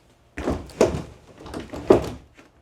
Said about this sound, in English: it has these bifolding doors which always seem to get jammed